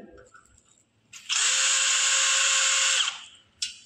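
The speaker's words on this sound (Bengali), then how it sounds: "তো একটা স্ক্রুড্রাইভার দেবে।" A power screwdriver drives a screw into an aluminium triangle window frame during installation, a close, loud whirring burst of about two seconds after quiet handling noises, with a short spin-up again at the end.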